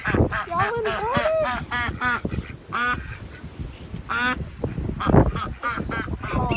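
Ducks on a flooded homestead quack loudly and repeatedly in ragged bursts, close by, with a voice talking among them.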